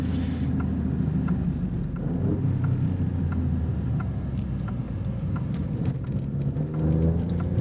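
A 2024 Alfa Romeo Stelvio Quadrifoglio drives in race mode with stiff adaptive dampers, heard from inside as a steady loud low engine and road rumble with faint ticks and bumps over it, with no talking.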